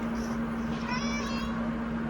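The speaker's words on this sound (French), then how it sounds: "Tu vois le bruit de chat alors qu'il n'y a pas de chat." A cat meows once, drawn out and wavering, over a steady background hum, fairly close and alone without talk.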